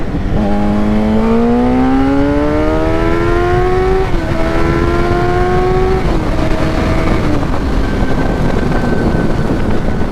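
An FZ1 motorcycle engine revs up hard and loud, its pitch climbing steadily through successive gears, with wind noise steady throughout.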